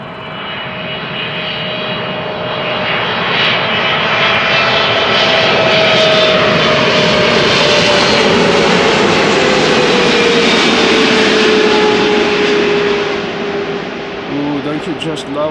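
An Airbus A350 at Schiphol roars past with its jet engines, a loud broad rush swelling and holding while a sustained tonal whir slides slowly downward in pitch, then easing off toward the end.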